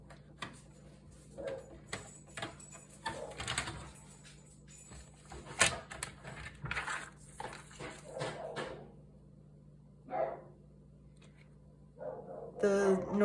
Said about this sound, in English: The noises you're hearing are my dogs going in and out of their dog door.